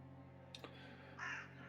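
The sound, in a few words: crows cawing, played as a tabletop game sound effect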